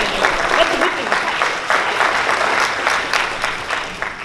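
Audience applause at an IGCSE awards ceremony, a dense, steady clatter of many hands clapping that carries on throughout at a fairly loud level, easing only slightly toward the end.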